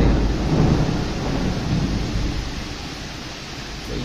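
A thunderstorm rumbles in a heavy, continuous roar of thunder mixed with rain during a railway duty trip, dense and loud throughout, gradually easing a little toward the end, with no voices.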